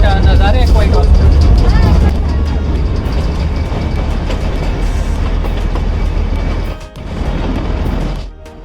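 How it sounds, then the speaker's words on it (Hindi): Matheran toy train rolling slowly along its rails, a steady low rumble with rattling carriage noise throughout, loudest early on and briefly dipping near the end, with voices talking over it. "ट्रेन इतनी स्लोली चलती है कि आपका कोई भी नज़ारा मिस नहीं होगा।"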